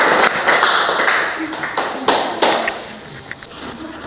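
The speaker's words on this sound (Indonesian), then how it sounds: "Beri dulu tepuk tangan untuk kelompok 1." A classroom group of students and teacher claps for the first presentation group, scattered taps and claps rising and fading over a few seconds, with some voices mixed in.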